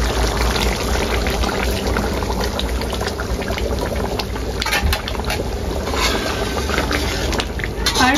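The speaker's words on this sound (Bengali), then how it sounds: "গরম পানি দিচ্ছি।" Hot water poured into a pot of home-cooked desi duck meat curry, a steady liquid pour running continuously at close range, with faint kitchen background noise and no talk.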